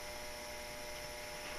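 Compressed air hisses steadily from a leaking air regulator with a weak diaphragm in a shop, a faint continuous hiss with a low hum and no talking.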